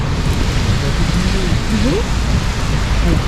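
Heavy rain drums steadily on a car near Kotor, Montenegro, a dense, loud, continuous wash of noise filling the whole clip, with a few brief spoken words over it.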